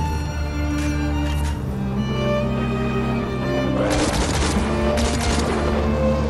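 Gunfire from a weapon in Destiny 2: bursts of rapid shots over a droning game soundtrack, faint early on and then two louder, denser volleys near the end.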